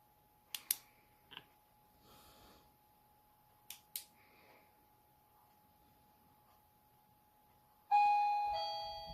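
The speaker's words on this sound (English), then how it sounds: "That was the doorbell." A doorbell chimes at about 8 seconds, a bright ringing tone that decays slowly, following several short sharp clicks and taps in an otherwise quiet room.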